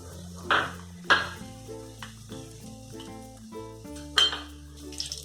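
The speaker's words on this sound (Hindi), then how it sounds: "अब हम लोग इसमें मेथी दाना और जो हम लोगों ने अजवाइन लिया है वो सबसे पहले ऐड कर देंगे" Fenugreek and carom seeds go into hot mustard oil in a kadhai. A few sharp metallic clinks and utensil taps sound close over a soft, low sizzle, with no voices.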